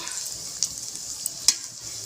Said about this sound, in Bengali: নেড়ে চেড়ে দিচ্ছি।